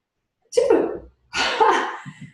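Two loud sneezes in quick succession, close up, followed by a brief soft sniff or breath.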